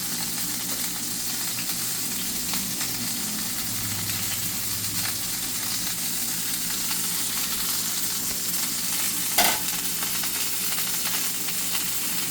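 Bison burger patties fry in a pan with a steady, loud sizzle that holds evenly throughout, with one brief sharper crackle near the end.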